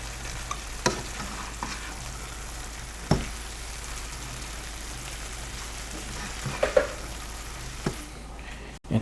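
Ground meat and sausage fry in a pot for Cajun cooking, giving a steady close sizzle while a utensil stirs through it with occasional scrapes and clinks.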